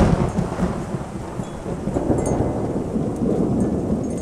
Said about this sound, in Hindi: लेकिन बारिश ऐसे हो रही थी मानो थमने का नाम ही नहीं ले रही।